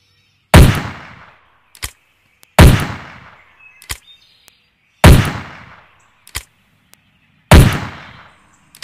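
Four loud, sharp gunshots from the video game Hunting Simulator boom at even intervals of about two and a half seconds, each trailed by a short echo and a lighter mechanical click.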